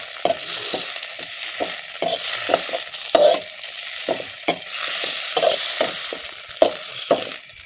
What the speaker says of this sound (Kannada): ಇವಾಗ ಚಿಗುರು ಎಲೆಗಳನ್ನೆಲ್ಲ ನಾನು ತುಪ್ಪದಲ್ಲಿ ಬಾಡಿಸಿಕೊಂಡಿದ್ದೇನೆ